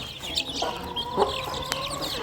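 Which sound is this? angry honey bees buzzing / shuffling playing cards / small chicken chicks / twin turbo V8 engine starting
small chicken chicks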